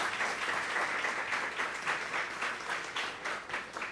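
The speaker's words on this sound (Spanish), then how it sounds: "Quisiera, por favor, un aplauso para quienes tomaron el tiempo de comentar este libro" Sustained applause from an audience at a Costa Rican book presentation, steady, dense clapping filling the whole stretch at moderate volume with no voices over it.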